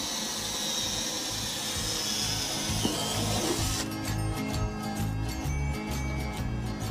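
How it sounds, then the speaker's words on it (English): A power drill with a 10mm bit bores a hole through the middle of a plant pot, a rough, continuous grinding whir with a shift in tone partway through as the bit works through. "just use a 10mm drill bit to drill a hole in the middle"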